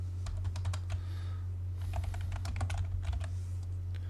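Keys on a computer keyboard are pressed during AutoCAD drafting work, including the Enter key: quiet, close clicks in short irregular bursts with pauses between them, over a low steady hum. Nobody talks.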